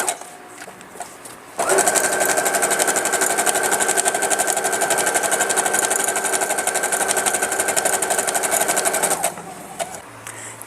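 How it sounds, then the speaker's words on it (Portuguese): A sewing machine stitches along marked lines on quilted fabric, running loud, close and continuous for about seven and a half seconds, then stopping, with only faint handling sounds around it. "agora a gente volta lá pra máquina pra poder costurar em cima dos traços"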